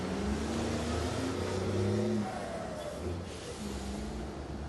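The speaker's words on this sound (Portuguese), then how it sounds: "Fora o fluxo de carro que é demais." Heavy car traffic fills a busy street, with engines humming and accelerating as vehicles pass at moderate distance, a steady rumble with shifting engine tones and no speech.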